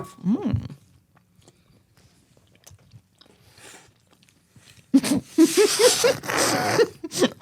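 Someone bites into an apple pie cupcake, then chews wetly and crunchily at close range after a quiet stretch. A short vocal sound comes at the start.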